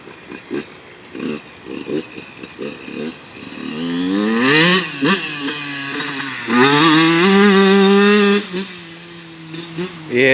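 An 85cc dirt bike engine revs and climbs through the gears, its rising whine sweeping up and down as the bike is ridden, moving nearer and farther, with voices talking over it at times.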